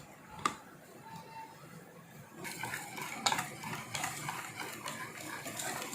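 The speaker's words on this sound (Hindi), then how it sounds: "चॉकलेट को अच्छे तरीके से ये सब बीट करके फिर रख देना। हैंड बीटर से मैं कर रही हूँ।" A hand beater whisks a melted chocolate and milk mixture in a bowl for a bread-and-chocolate cake, producing steady scraping and clattering that grows busier halfway through, with a sharp clink near the start.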